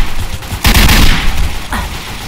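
A burst of gunfire in a DarkRP video game shootout, a loud close volley around the middle followed by a shorter shot, over noisy game ambience.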